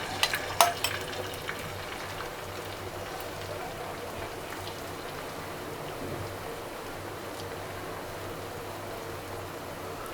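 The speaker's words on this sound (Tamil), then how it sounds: "இப்போ நம்ம ஆம்லெட் போட்டுடலாம்." Potato omelette batter fries on a hot griddle stone with a steady crackling sizzle like light rain, a few clinks of a utensil near the start, then continuous even frying.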